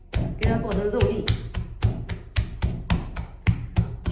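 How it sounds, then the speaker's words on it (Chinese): A kitchen knife minces pork into small bits on a chopping board in a home kitchen, making rapid, steady, close chopping thuds. About a dozen strong strikes fall in a regular rhythm. "给它剁成肉粒"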